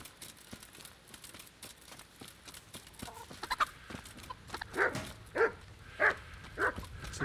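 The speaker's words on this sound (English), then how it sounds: "It's a barking dog." Barks of a dog in the medieval town of Rattay in the game Kingdom Come: Deliverance, four loud, evenly spaced barks in the second half after quieter ambient clatter and distant sounds.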